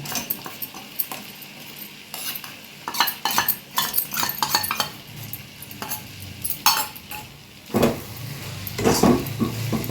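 Spice paste for mutton kosha being stir-fried in a pan, with repeated scraping and clinking of a spatula against metal and a soft sizzle underneath, irregular strokes close by, no talking.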